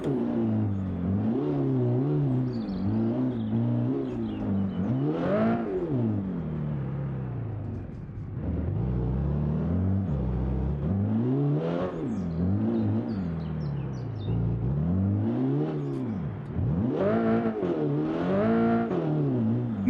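A loud rally car engine in the video game BeamNG.drive revs repeatedly, its pitch climbing and dropping in long sweeps, with no one talking.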